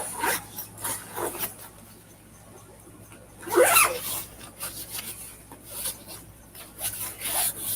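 An Eagle Creek travel backpack is zipped up, with intermittent rasping zipper pulls and fabric rubbing in short bursts, one louder stroke midway, up close with no talk.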